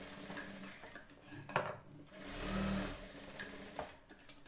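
Sewing machine stitching the shoulder seam of a blouse, a steady mechanical whir in short runs with small clicks and pauses between bursts, close and fairly loud.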